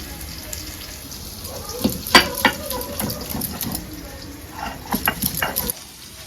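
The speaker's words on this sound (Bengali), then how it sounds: "পেঁয়াজ ভাজা হয়ে গেছে" Onions fry in a pan with a continuous sizzle, mixed with the clatter and scrape of stirring and a few sharp metallic knocks around the middle and near the end.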